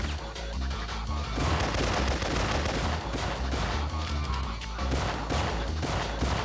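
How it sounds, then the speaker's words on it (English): Gunfire in the video game Syphon Filter, shots aimed at a window, a dense, loud burst of rapid reports and crashing impacts filling the whole stretch without pause. "So I'm just gonna shoot the window and climb up."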